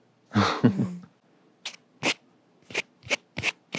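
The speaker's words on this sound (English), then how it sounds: "it prevents you from scraping the actual microphone with something" Scratchy rubbing bursts against a microphone windscreen on a RODE Wireless GO, one long scrape followed by a series of short, sharp brushing hits with quiet gaps between.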